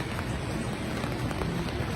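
Steady rain pours down at a baseball stadium during a Dodgers versus Pirates game, a dense, even patter of drops hitting surfaces nearby with no voices, continuous throughout.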